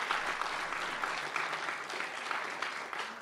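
An audience at a history lecture claps steadily, a sustained wash of many hands heard at a moderate distance, fairly soft and even, with no talking over it.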